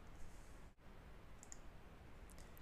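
A single soft mouse click on a save button lands near the start of an otherwise quiet room, faint and brief.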